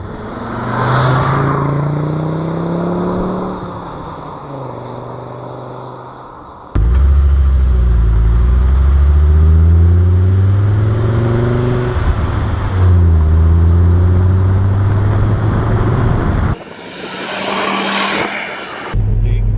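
Audi Ur Quattro, the Group B rally-era car, with its 10-valve turbo engine revving: a deep, rumbling engine note swells and falls in repeated rising and falling pulls, loud and close, with no talking.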